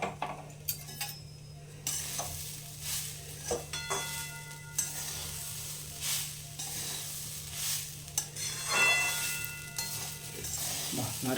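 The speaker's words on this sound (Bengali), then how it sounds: "এটা বেশ লাল করে ভেজে নেবে নাকি?" Grated coconut frying in a wok for coconut laddu, with a soft sizzle and repeated stirring scrapes and knocks of a spatula against the pan, fairly quiet and close, with no talking.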